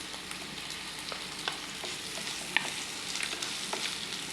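Cut potatoes fry in a pan with browned onions, cumin and black cumin, giving a steady, soft sizzle with faint crackles and an occasional stir, with no one speaking.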